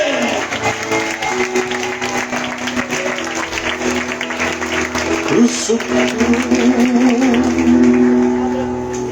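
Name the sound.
congregation applauding loudly in church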